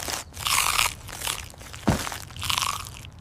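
Loud, close crunching as crisp food is bitten and chewed, several crunchy bursts with brief pauses between them.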